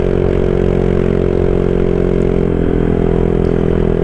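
A Honda PCX 160 scooter fitted with a Rez Speed SR V4 aftermarket exhaust, running loud and close with a dense, steady low engine drone and exhaust rumble throughout, no speech over it.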